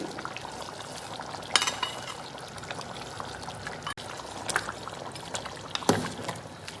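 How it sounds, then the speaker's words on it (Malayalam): Fried onions are added to a roasted-coconut chicken curry in a pan, giving a close, steady bubbling sizzle with occasional louder scraping and stirring clatters. "നമ്മുടെ സവാള ഉള്ളി മൊരിച്ച് വെച്ചത് നമ്മൾ ഇട്ട് കൊടുക്കുകയാണ്."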